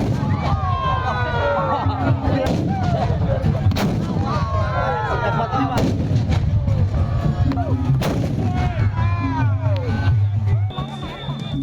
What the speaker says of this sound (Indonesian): tradisi adu meriam raksasa atau kuluwung di momen akhir libur Lebaran